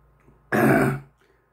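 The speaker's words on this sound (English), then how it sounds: "Hard to clear your throat when it starts doing its thing." A single harsh throat clearing after eating very hot chocolate bhut jolokia peppers, close and loud, lasting about half a second between quiet moments.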